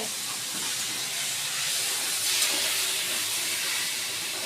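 A small bird is fried in a pan with a steady, even sizzling hiss that continues unbroken throughout at moderate loudness.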